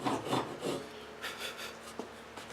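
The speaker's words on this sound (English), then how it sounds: "I'll start with the small crosscut teeth to get a saw cut started" A hand saw's small crosscut teeth start a cut for a dovetail socket in wood, giving soft, quiet rasping strokes in a few uneven bursts with brief pauses between.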